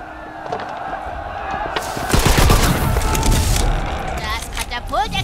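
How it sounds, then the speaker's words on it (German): A catapult explodes in Tiny Tina's Wonderlands: a sudden crackling burst of explosions erupts midway, loud and dense like popping blasts, then fades into fizzing game effects. "Das Katapult explodiert in Blitzer und Regenbogenstücke!"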